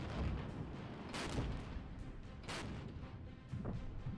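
Mortar fire in the Regiments strategy game, with repeated distant-sounding thumps and booms rolling out at irregular intervals over a continuous low battlefield rumble, and no voices.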